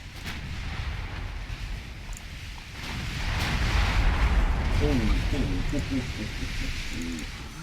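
Heavy 11-inch naval guns on a warship boom repeatedly in the Ultimate Admiral Dreadnoughts game as shells land around the IJN Satsuma, with a sustained rumbling barrage that swells midway and someone talking over it.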